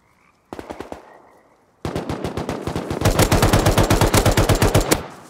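Rapid AK rifle fire in the Rust video game: two short bursts, then a long sustained automatic burst of sharp, evenly spaced shots that grows louder and ends with a final crack.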